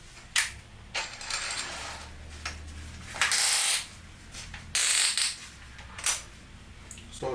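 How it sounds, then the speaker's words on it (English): A Ridgid 18V sub-compact brushless 1/2-inch drill/driver with its clutch locked gives off a few sharp bursts of clicking and rattling, close and fairly loud, separated by quiet gaps. "So it's locked, so you hear the clicking."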